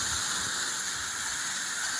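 A steady, bright hiss of a pressurized water spray washing down a tractor on a sugarcane farm, constant and unbroken with a soft low rumble beneath it.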